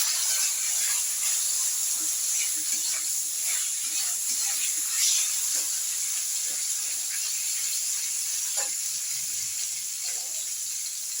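Flat beans frying in hot oil in a pan for khichuri, a steady close sizzle and hiss with small crackles, while a voice speaks faintly.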